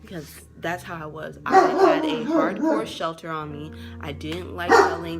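A dog barks and yips intermittently nearby while a person keeps talking over it.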